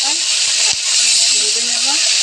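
A paste of ground chili, ginger, onion and garlic with whole cumin and bay leaf hits hot oil, producing a loud, continuous steamy hiss up close, with a faint voice murmuring underneath.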